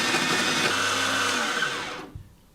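Fellow Opus coffee grinder grinding coffee beans, a close, loud whirring grind lasting about two seconds before it winds down and stops, with a faint clack at the end.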